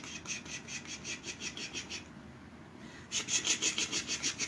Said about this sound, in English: and I'm going to grate them.